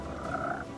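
A frog croaking in the video game Pathfinder: Kingmaker, a single short throaty croak with a tonal buzzy quality lasting under a second, clear and close with no talk over it.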